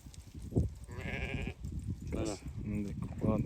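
Sheep in a flock of last year's lambs, now young ewes, bleat several times at moderate distance, the calls rising over a voice and general farmyard noise.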